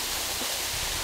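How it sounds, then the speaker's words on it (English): Waterfall in Amasra on Turkey's Black Sea coast, a dense, continuous broadband rush of falling water, close and fairly loud, with no voices over it. "So we got here to the waterfall, as you can see"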